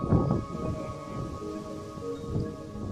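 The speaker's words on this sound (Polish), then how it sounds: "Kolejna burza mnie spotkała." Steady rain during a thunderstorm on an outdoor recreational walk in Dębówka, Wilanów, with a constant patter and occasional low rumbles, heard alone without speech.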